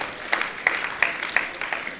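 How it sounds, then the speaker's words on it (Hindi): An audience at a spiritual teaching camp lecture gives brief, scattered applause. A few distinct claps stand out over a soft patter, fairly quiet and fading after about two seconds. "इनके लिए तो तालियां बजा देना चाहिए"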